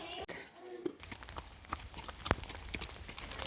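Horses walk on a wet track at a pony riding camp in light rain, their hooves clip-clopping in an irregular steady rhythm at close range, with people talking around them.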